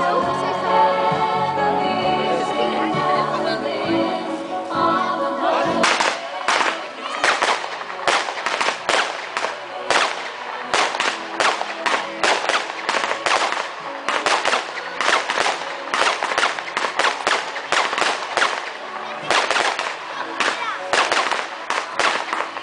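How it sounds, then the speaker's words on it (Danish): A fireworks battery of 25 shots with green and mixed-colour tubes fires at an outdoor demo show, starting after a few seconds with a rapid irregular string of loud cracking bangs that continue steadily to the end, with no talk. "25 skud i et batteri, rør med grøn og forskellige farver"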